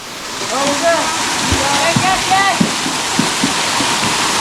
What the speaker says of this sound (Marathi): पाणी आहे ना तिथे झोतावरचं पाणी भरतोय बघा रोशन